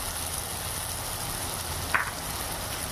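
Tomato and dried red chilli chutney with tamarind, cumin and salt frying in oil, a steady even sizzle throughout with one small clink of a utensil near the end, no talking.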